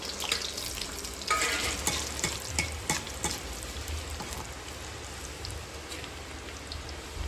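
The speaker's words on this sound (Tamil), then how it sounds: "வெந்தயம் பொறிஞ்சிட்டு வெங்காயம் போட்டுக்கலாம்" Fenugreek seeds and onions sputtering in hot oil as tempering for a fish kuzhambu, a continuous dense crackling sizzle like rain with scattered sharp pops and stirring clicks, close and steady.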